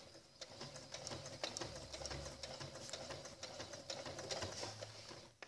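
A sewing machine stitches fabric for a thermal lunch bag with a built-in lining, giving a close, continuous mechanical whir and rapid needle clatter that runs almost without pause.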